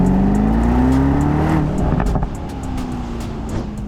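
The 4-litre twin-turbo V8 of a new Aston Martin Vantage roars under acceleration from inside the moving car, loud and deep, its tone climbing and then easing off, with no talking.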